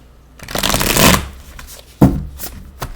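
Tarot cards shuffled by hand in two close, brisk riffles: a longer ruffling burst followed by a shorter one, with a soft card tap at the end.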